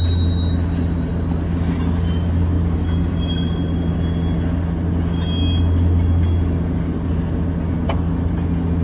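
A Union Pacific freight train with a mid-train DPU rolls past on the Transcon line in Fremont, Nebraska, a loud continuous low rumble of wheels and engines with brief faint squeals, no talk.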